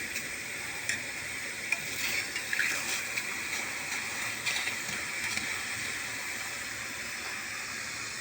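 Mushrooms frying in a pan after a sprinkle of salt give a steady, close hiss and sizzle that runs unbroken, with occasional faint crackles and light stirring ticks on top.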